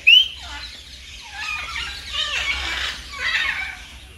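A sharp squeal opens, then macaws in a zoo keep up a steady chatter of raspy squawks and calls at moderate distance, with no talk.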